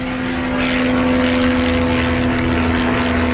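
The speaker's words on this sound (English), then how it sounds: "airplane." A propeller airplane flies overhead as a steady, loud drone with a strong constant hum, continuous throughout and without any talk.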